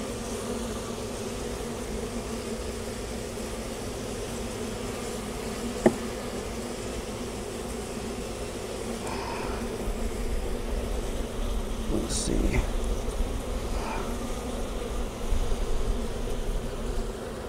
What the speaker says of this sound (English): Some bees are kind of bouncing off me